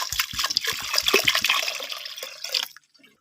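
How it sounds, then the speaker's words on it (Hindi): About two glasses of water splash and pour into a pressure cooker for a couple of seconds, a close, bubbly liquid rush that stops abruptly, leaving silence. "अब हम डालेंगे पानी तकरीबन 2 गिलास।"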